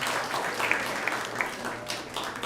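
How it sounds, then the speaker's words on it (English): Audience applause at an evening devotional gathering, a soft, steady wash of clapping from a crowd, fairly distant and sustained for the whole stretch with a few sharper individual claps. "So let's give a big round of applause to everyone who has joined us here tonight."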